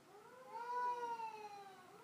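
A cat yowling outside behind a house during a fight, one drawn-out, wavering caterwaul rising and falling, faint and distant with no talk.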